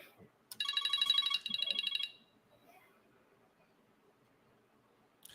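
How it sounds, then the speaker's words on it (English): A mobile phone ringtone suddenly goes off, a bright electronic melody lasting about a second and a half, loud and close, then cutting out to quiet room noise. "My phone just goes off."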